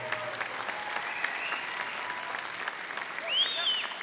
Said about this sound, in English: how about a big round of applause for our warriors in the ring